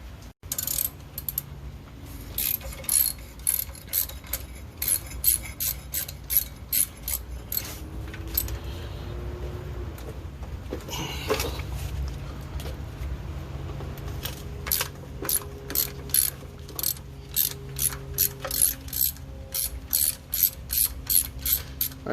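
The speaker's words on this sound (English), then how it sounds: "it's going to be taking off all these bolts, which are a 1/2 inch if I remember correctly" Ratchet loosening half-inch water pump bolts on an original 1969 Mustang fastback 302 engine, rapid bursts of sharp clicking that repeat with short pauses, close and fairly quiet, with occasional clinks of metal between.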